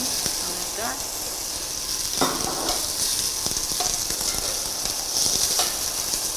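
Chopped onion sizzles and crackles steadily in hot oil in a pot for mutton curry, with occasional scrapes and knocks of a spoon stirring it and faint voices in the background.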